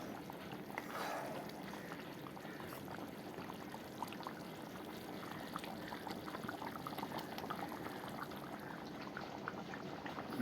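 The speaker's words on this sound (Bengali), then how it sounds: "দেখো বন্ধুরা ঝোলটা উঠে গেল" Fish curry bubbles as it comes to a boil, a quiet continuous simmering hiss and bubbling heard close up, steady for the whole stretch with no voices.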